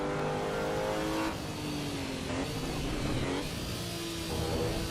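A race car engine in the AC Evo racing game drones steadily with shifting pitch, loud and continuous, dipping briefly between revs and sounding rough.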